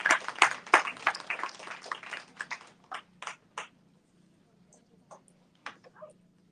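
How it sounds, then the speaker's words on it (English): A small audience claps for a panel walking out at a Barnes and Noble book and podcast event, a brief burst of applause that quickly thins into a few scattered, isolated claps before fading out. "Give them a thunderous round of applause."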